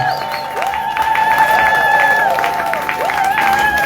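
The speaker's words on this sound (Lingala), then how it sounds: "Poussez des cris de joie, poussez des cris de joie" A congregation at a church conference gathering shouts and cheers for joy, a continuous wash of crowd noise with tonal musical lines running through it and no pause for the full length.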